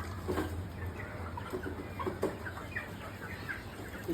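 Native country chickens on a farm cluck steadily while pecking at feed mixed from millet, rice and dried fish powder, with soft overlapping clucks and scratching over a constant background hum.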